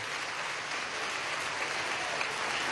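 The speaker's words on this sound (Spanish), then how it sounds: "un aplauso a las barrigonas" Steady applause from an audience at a political rally honoring expectant mothers, a dense continuous clatter of many hands at moderate level with no gaps, no voices rising above it.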